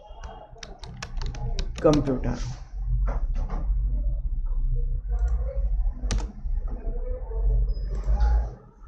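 A computer keyboard is typed on in quick, light clicks, close by and moderately quiet, while someone speaks Hindi over a low background hum.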